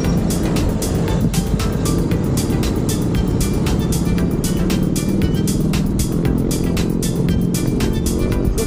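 Car passing on a road beside a wide bike lane, heard from a bicycle ride: a loud, steady engine and tire roar filling the clip, with no talk.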